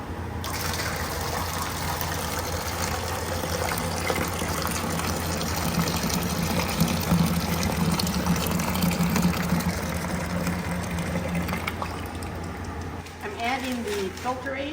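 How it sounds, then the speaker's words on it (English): Maple syrup pours off a sap evaporator in a steady, continuous liquid gush, loud and close, with a rumbling hiss underneath; a voice speaks briefly near the end. "we're ready to pour off some of this syrup."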